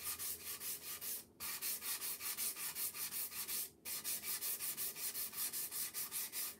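A surface is lightly sanded by hand before stenciling, a close, rhythmic rasping rub of quick back-and-forth strokes with two brief pauses.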